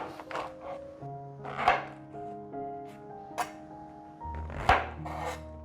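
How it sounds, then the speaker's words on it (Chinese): A knife slicing through the root ends of a bunch of red shimeji mushrooms on a cutting board, a few soft chops and thunks, close and moderately quiet, with background music playing. "红喜菇的根部切掉，用这种倒 V 字形的切法"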